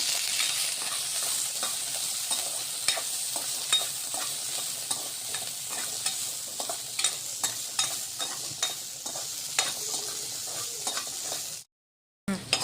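Continuous soft sizzling of karvand berries being heated in a pan, with regular scraping taps of a spoon stirring, close up, ending abruptly in silence.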